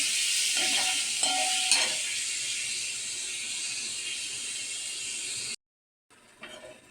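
Tomato masala frying in a pan gives a strong dense sizzle with a few spatula scrapes early on, then cuts to silence before a quieter sizzle with stirring knocks returns.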